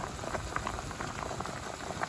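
A pot of karnıkara stew bubbles and pops steadily at a vigorous boil, a dense close gurgling texture with no speech.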